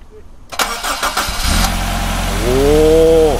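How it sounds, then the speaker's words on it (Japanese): A Toyota Corolla 70 series with its 2TG engine cranks and catches near the microphone, then settles into a steady, loud run with a rising rev toward the end. "エンジン音を聞かせていただきましょう。"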